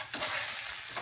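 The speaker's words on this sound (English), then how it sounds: "we're just going to roll these things around in here, get a nice good coating, kind of caramelize them up" Turkey meatballs frying in a pan as they are rolled in barbecue sauce, a close, continuous sizzle with soft stirring and scraping underneath.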